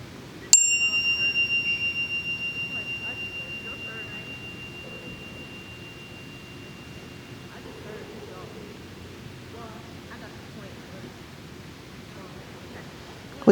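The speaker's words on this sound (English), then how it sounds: "In a moment, you'll hear a bell chime." A single bell chime rings out for a mindfulness brain break in a classroom, struck once and then a clear sustained tone decaying slowly over more than ten seconds into quiet room ambience with faint murmurs.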